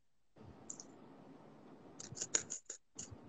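A real razor blade cutting through a card, a short scrape early on, then a cluster of sharp clicking, slicing strokes, close and fairly quiet with no talking.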